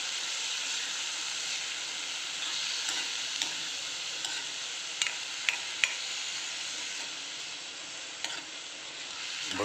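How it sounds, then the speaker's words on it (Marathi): Kurdai wheat crisps fry in hot oil in a pan with a steady, dense sizzle and occasional soft clicks of stirring, close and even throughout. "आपल्या कुरड्या चांगल्या फ्राय होत आहेत."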